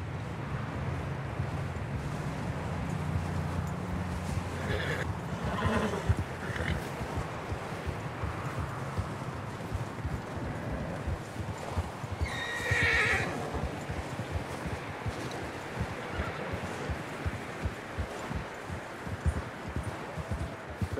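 Horse in the Red Dead Redemption game, steady hoofbeats under wind noise with a couple of neighs, moderate and fairly near, no speech.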